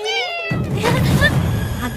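A cat gives a clear drawn-out meow at the start, then a voice speaks over a faint background with the cat still audible.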